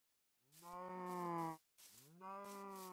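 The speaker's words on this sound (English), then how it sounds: "Already found some cows" Two drawn-out cow moos in the video game Minecraft, one after another, close and clear against silence.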